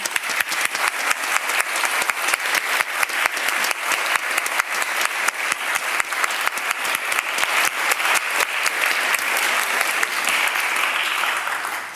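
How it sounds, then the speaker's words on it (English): A debate audience applauds its speakers with steady, vigorous clapping from many hands that continues unbroken for the whole stretch, tapering only at the very end. "thank you so much to our amazing speakers, who can all give another round of applause to"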